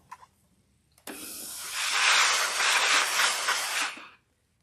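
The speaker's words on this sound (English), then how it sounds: "some steam on it." A steam iron releases a loud, continuous hiss of steam onto fabric during a sewing and pressing session, starting with a sharp burst, holding steady for about three seconds, then cutting off cleanly.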